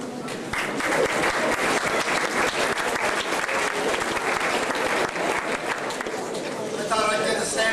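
An audience at a Kris's Wish school event in St Catharines gives loud, sustained applause, dense clapping that keeps going for several seconds with no break.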